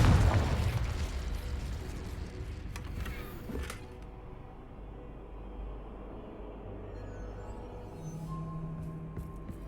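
A Confringo fire spell from the Hogwarts Legacy video game bursts loudly at the start, followed by a few sharper blasts and a lingering low rumble that fades into steady game ambience.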